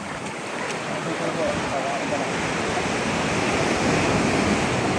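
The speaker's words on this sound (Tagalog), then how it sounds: "Andiyan na yung alon" Beach surf near San Ramon in summer, waves rushing and building into a louder wash toward the end, with wind on the microphone and people talking over the water.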